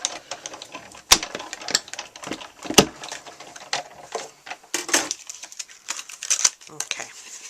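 Die cutting machine cutting paper, rattling out quick uneven clicks and sharp snaps in an irregular rhythm, close and fairly loud.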